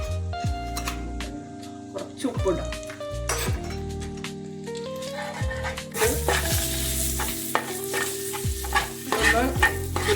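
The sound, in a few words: egg curry masala being stirred and roasted in a pan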